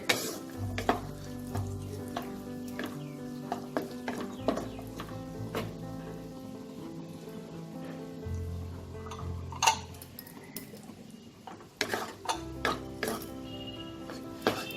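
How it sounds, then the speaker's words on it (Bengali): Soya chunks fry with raisins in a pan over a very low flame, giving a soft steady sizzle broken by scattered light clicks and taps of a utensil against the pan. "এটা আমি 2-3 মিনিট ভেজে নিয়েছি।"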